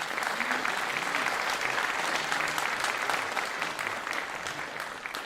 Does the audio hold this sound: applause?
yes